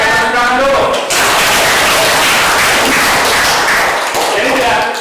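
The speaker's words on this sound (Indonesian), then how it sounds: "Oke, tepuk tangan dulu." Students in a chemistry classroom burst into loud, dense applause that fills most of the stretch, then thins out near the end.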